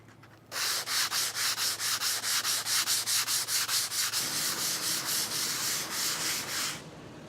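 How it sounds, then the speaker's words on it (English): Dried joint compound on a hollow door repair being hand sanded with fine 400 grit paper under light pressure: a close, even series of rhythmic back-and-forth rasping strokes, about four per second, stopping near the end. "it doesn't take a lot of pressure at all with this joint compound to sand it smooth"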